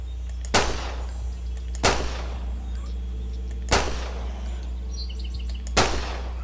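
Four evenly spaced gunshots from the PC survival game The Last Stand: Aftermath, each a sharp crack with a short decaying tail, ring out over a steady low game hum.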